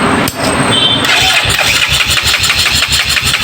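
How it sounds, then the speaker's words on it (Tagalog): A repaired motorcycle engine cranks and fires up close by, settling quickly into a loud, steady rhythmic idle with pulsing exhaust beats. "paandarin na po natin para sa ganun is malaman po natin kung umandar na po itong motor po natin"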